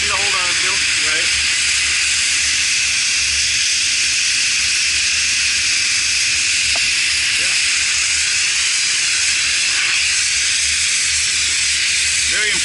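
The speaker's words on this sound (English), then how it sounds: "That's a lot of steam." An Arctic Steamer blasts steam at a rooftop ice dam, a loud, constant hiss that holds steady throughout, with faint voices of people talking nearby underneath.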